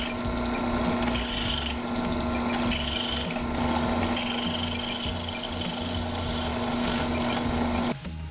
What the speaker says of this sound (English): First I've got to drill a hole in this spacer